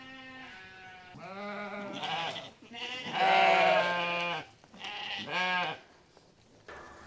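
Lambs being weaned bleat repeatedly, several loud, wavering calls in succession, close by and overlapping, with brief pauses between them.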